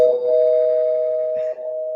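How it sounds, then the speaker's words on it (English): A spoiler bell sound effect rings out as a doorbell-like chime, one steady sustained tone lasting about two seconds, clear and fairly loud with no talking over it. "spoiler bell, spoiler bell"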